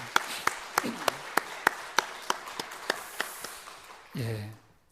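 A church congregation at an Easter Sunday service claps to bless a member. Fairly faint, evenly spaced claps fall in a steady rhythm, and a voice speaks briefly at the end.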